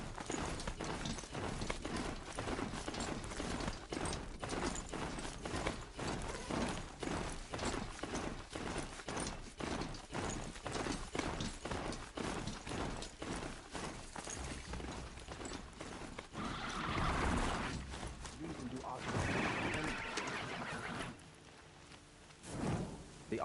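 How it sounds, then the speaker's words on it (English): Hooves of a horse ridden at a gallop in the video game Horizon Zero Dawn pound in a fast, steady rhythm throughout, with faint game sounds and brief voices toward the end. "riding the horse now, all the way to our mission."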